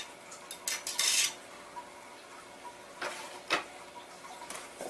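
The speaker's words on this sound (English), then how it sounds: "Now these are clean, dry patches. And I slide them through the gun" Clean, dry cleaning patches slid through the barrel of a 20 gauge semi-automatic shotgun, giving soft scraping swishes and a few sharp metallic clicks and clinks, close and quiet, with no talking.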